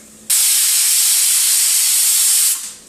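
A pressure cooker on a gas stove vents steam while cooking mixed vegetable soup. A loud, steady, rushing hiss starts abruptly, holds for over two seconds, then fades out.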